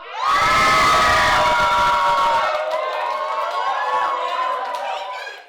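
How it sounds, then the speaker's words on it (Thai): Two teams cheering at a Thai contest event, a loud burst of crowd and children's shouting that peaks early, then fades into a lingering mix of cheers and chatter. "ขอเสียงเชียร์จากทั้งสอง ทีมหน่อยครับ"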